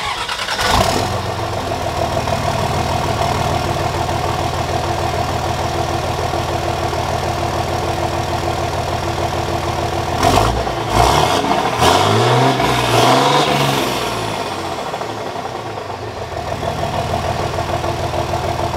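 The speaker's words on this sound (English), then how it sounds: "we're gonna do a cold start real quick of the Frostbite holler" A truck fitted with new smoke stacks cold-starts and runs, its engine rumbling loud and steady throughout, with a burst of revving near the middle before settling back to idle.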